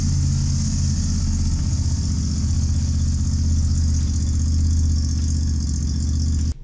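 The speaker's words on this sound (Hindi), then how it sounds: "अब बाइक अनलॉक हो जाएगी और स्टार्ट हो जाएगी" A 2022 Yamaha FZS V3 motorcycle's 149cc engine runs at a steady, loud idle with a low rumbling throb and light rattle, continuing evenly throughout before cutting off abruptly at the end.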